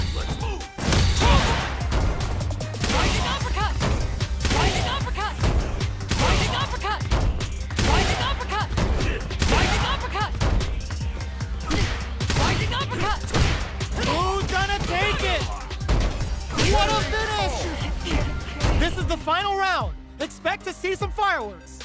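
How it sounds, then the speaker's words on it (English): Street Fighter 6 fight with a fast run of loud crashing hits and bursting impacts, like fireworks, layered over music and an announcer calling moves throughout. "See some fireworks."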